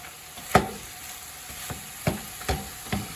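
Ground beef fries with onions and garlic in a pan, giving a steady close sizzle that is broken by several sharp scraping stir strokes from a tool breaking up the meat.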